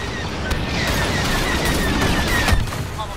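Starfighter cannons fire in Star Wars Battlefront II space combat, a dense rapid barrage of blasts over a steady roaring engine bed that swells slightly toward the end. The weapons are loud and continuous, and no one talks.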